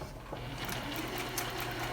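A sewing machine stitches steadily as fabric is fed through, a close, continuous whirring hum with a fast rhythmic needle chatter.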